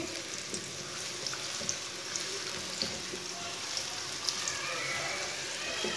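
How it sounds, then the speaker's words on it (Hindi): Finely chopped medium onion frying in a pan until lightly browned, a steady close sizzle with occasional spoon clinks and scrapes as it is stirred, and a voice talking faintly over it. "प्याज को हल्का सा ब्राउन कर लेंगे"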